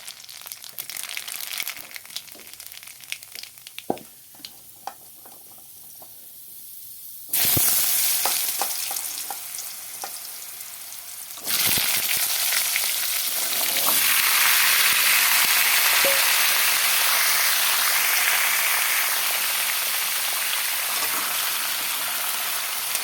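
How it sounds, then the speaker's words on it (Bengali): Pumpkin pieces fry in oil with black cumin, first scattered taps and rustles, then a sudden loud burst of sizzling that drops briefly and swells into a sustained, roaring fry close by, no talking. "এখন কালো জিরা সম্বাস দিয়ে মিষ্টি কুমোরটা ভেজে নেব"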